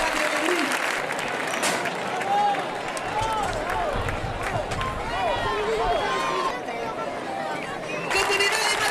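Sustained crowd applause and cheering at a recortadores contest in Gandía, 2012, steady and near throughout, with an announcer speaking and shouting over the clapping.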